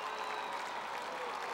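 A football championship crowd inside the Dakota Dome keeps up a dense, steady roar of cheering and clapping, with a voice talking over it.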